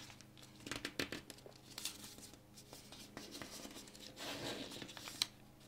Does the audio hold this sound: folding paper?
yes